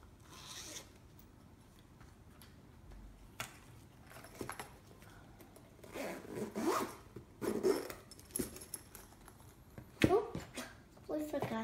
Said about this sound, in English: There's a little zipper.